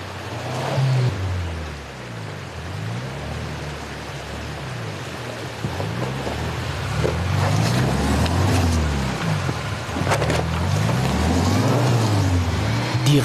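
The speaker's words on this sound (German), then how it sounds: "Die Reifen fressen sich im Schlamm fest." An off-road vehicle bogged in mud on a rough mountain track in Georgia's Caucasus, its engine revving and surging over and over as the tires churn, with a wet sloshing rumble throughout.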